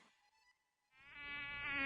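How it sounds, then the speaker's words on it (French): A mosquito whines close by, faint at first then growing louder and nearer in a continuous high-pitched buzz, with no talk over it. "Stupide moustique."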